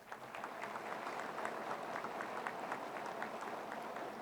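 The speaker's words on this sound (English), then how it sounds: "maybe you want to give them a nice round of applause" A crowd at a graduation ceremony for 285 probationary firefighters applauds friends and family. Soft, even clapping goes on without a break and sounds distant in a large hall.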